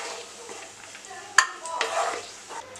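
Something fries and is stirred in a pan while pineapple kesari is being made, giving a soft, steady sizzle broken by a sharp utensil clink and a few scraping strokes.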